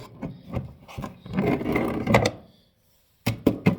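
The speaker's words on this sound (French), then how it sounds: "je vais nettoyer avec la lingette" A box wiped down with a wet wipe, giving close rubbing and scraping strokes in uneven bursts, then a pause of silence before a few more quick rubs and knocks, with no talking.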